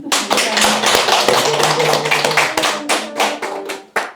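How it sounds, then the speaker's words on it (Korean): A church congregation at a Sunday afternoon Baptist gathering claps together in a quick, uneven burst of many hands that thins out into a few last claps. "우리 같이 박수나 한번 치죠"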